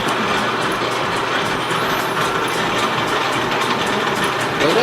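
A lathe driven by another lathe runs with a continuous, loud mechanical whir and hum, overlaid with rhythmic rattling ticks in a workshop setting.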